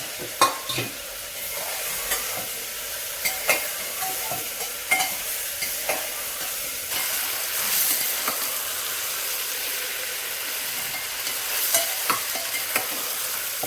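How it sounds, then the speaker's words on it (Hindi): Vegetables and soybeans fry in hot oil for a veg pulao, with a steady sizzling hiss broken by repeated scraping stirs of a spoon, close and fairly loud throughout. "तो सारी सब्जी अच्छे से फ्राई हो गई है तेल में।"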